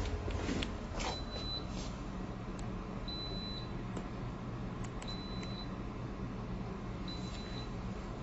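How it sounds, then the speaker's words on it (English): Alert tones from a cloud-based power-failure notification system after mains power is lost: short high beeps repeating roughly every two seconds over a steady hum of fans and equipment, no talk. "It's triggering the alert."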